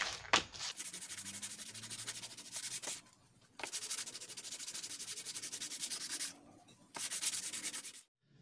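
Hand sanding of a bump on a plastered corner edge, heard as several sustained raspy rubbing strokes separated by short pauses, close and fairly loud, with no talking.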